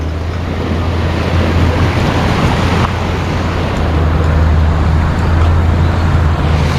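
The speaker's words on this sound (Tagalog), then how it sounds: "sobrang lakas dahil nga kaulan lang, ang lakas ng agos" A strong, rain-swollen river current rushes steadily past a riverbank near a road detour, a loud, continuous broadband roar with a low rumble and no talk.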